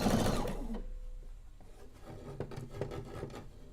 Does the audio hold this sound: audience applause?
no